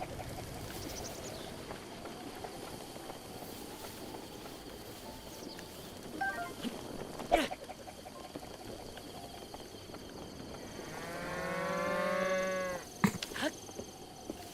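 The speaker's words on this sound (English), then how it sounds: "Nice moo coordination." A cow in Breath of the Wild lets out one long, low moo near the end, heard against a quiet outdoor ambience with a few scattered clicks and taps.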